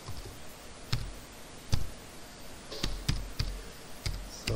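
Keys tapped on a computer keyboard while a school email address is typed, a handful of sharp, irregular clicks spaced across a few seconds in a quiet room, close and clear with no talking.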